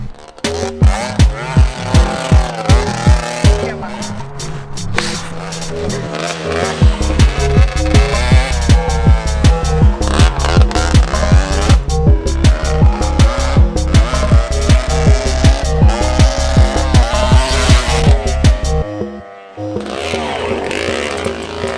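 A 250cc mini quad is ridden hard, its engine loud and close with a fast, rhythmic pulsing note that surges and rises in pitch, drops off sharply near the end, then idles briefly.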